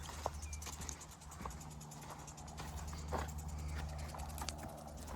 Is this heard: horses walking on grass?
yes